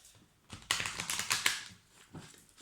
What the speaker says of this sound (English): I'm starting to get good at this style of shuffling.